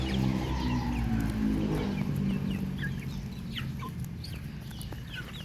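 Native chickens cluck and call repeatedly on a farm, a mix of nearby and more distant birds over a low background rumble.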